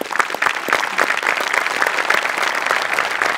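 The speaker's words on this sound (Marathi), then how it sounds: "सेटिंगवाल्यांसाठी सुद्धा एकदा टाळ्या व्हायला पाहिजे" Studio audience at a Marathi TV comedy show applauding, a dense, steady wash of many hands clapping at even loudness throughout, with no voices on top.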